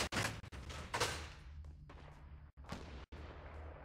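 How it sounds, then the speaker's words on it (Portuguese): Gunfire in Fortnite, heard as a fast burst of sharp shots at the start, then scattered thumps and a couple of abrupt cracks. The whole passage is quiet and somewhat distant. "Estão atirando em mim, Duarte."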